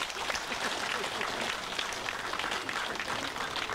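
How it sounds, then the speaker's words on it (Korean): Steady applause from a crowd at a Buddhist temple ceremony and dharma assembly, dense clapping running evenly throughout with no pauses. "이렇게 불사에 동참하신 백만원력 행자님들께 큰 박수 한번 같이 보내주시죠"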